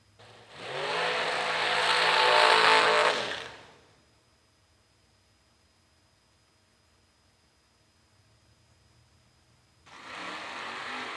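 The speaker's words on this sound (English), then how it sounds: "Burnouts complete for Cody Basham and Scott Taylor." Drag racing cars at a dragster event roar through burnouts, a loud sustained engine and tire blast lasting about three seconds, then near silence, then another loud burst starts.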